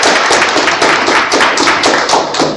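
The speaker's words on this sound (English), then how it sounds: "Let's have a round of applause for him again." An audience at a climate change event applauds continuously, a dense wash of many hands clapping, loud and steady for the whole stretch, with no speech over it.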